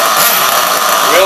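A small high-revving nitro engine on an HPI Savage RC car buzzes continuously up close while idling, a harsh rasping whine that holds steady through the short moment.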